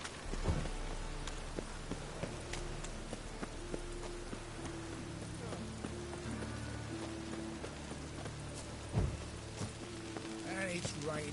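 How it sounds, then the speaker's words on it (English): Rainfall in The Witcher 3: Wild Hunt, a soft steady patter of drops in the background with hoofbeats clopping, a few louder thumps and faint music underneath. "And it's raining again."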